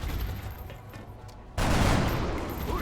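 A single loud gunshot from the XCOM Long War strategy game bursts in suddenly and rings out for over a second, sharp and close, after a quiet stretch of game ambience.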